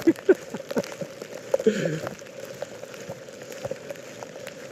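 Rain pattering outdoors while someone walks in it, a steady hiss with scattered close drips and splashes, louder near the start and easing later.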